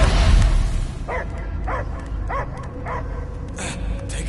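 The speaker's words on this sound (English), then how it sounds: "I hear only barking." A dog barking in the video game Guardians of the Galaxy, a series of short, evenly spaced barks and yips at mid distance, under game ambience and talk.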